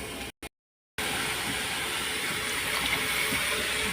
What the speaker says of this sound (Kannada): ನೀರು ಆ್ಯಡ್ ಮಾಡಿ